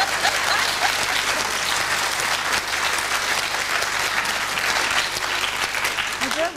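Sustained applause from a large TV panel show studio audience, dense and steady clapping with crowd noise throughout.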